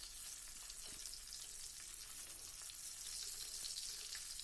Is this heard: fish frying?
yes